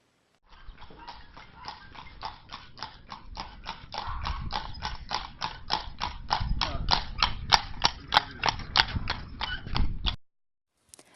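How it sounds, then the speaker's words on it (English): A horse clip-clops along a street, with steady, evenly spaced hoofbeats that grow louder as it nears and then stop abruptly, over a faint rumble. "It was the sound of a horse passing through a street."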